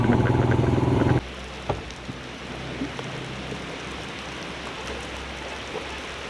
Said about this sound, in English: it's raining real bad now